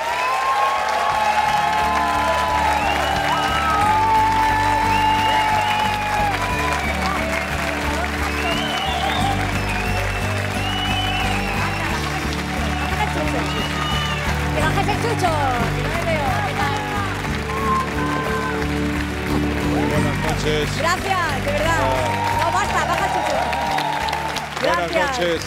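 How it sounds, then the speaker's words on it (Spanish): TV studio audience on a late-night talk show applauding a guest actress's entrance, sustained loud clapping and some cheering throughout, with voices and whistles mixed in. "Un aplauso para Victoria Abril."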